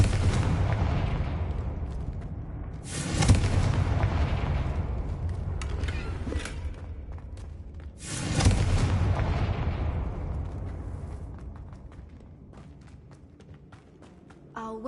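Confringo fire-spell explosions in the Hogwarts Legacy video game: two loud booming blasts, a few seconds apart, over a steady rumbling game backdrop that gradually fades.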